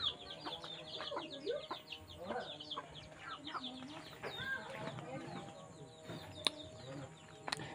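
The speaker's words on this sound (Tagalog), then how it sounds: "May mga manok sila dito." Chickens cluck and crow in a steady, overlapping chorus at close to moderate range, with other birds chirping and a rooster-like call mixed in over outdoor background noise.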